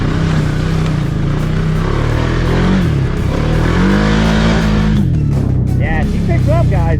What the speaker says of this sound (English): It's a snappy 700 single cylinder. If you ask it, it's going to deliver.